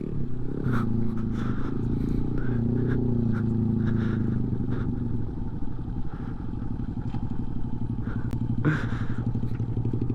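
A 2018 Honda Grom motorcycle engine drones close by during a ride, a steady buzzing rumble that rises and settles with throttle changes, with faint scrapes and clatter over it.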